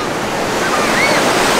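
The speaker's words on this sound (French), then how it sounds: "il y a des bonnes vagues avec Mas depuis tout à l'heure, on s'amuse bien" Ocean waves break and wash steadily on a beach, making a loud, continuous roar of surf with wind noise on the microphone. There are no voices.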